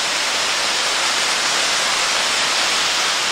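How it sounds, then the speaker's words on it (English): Katahdin Stream Falls on Mount Katahdin in Maine, a waterfall heard close up as a constant broad roaring rush with no other sounds. "Yeah, so this over here is the actual waterfall."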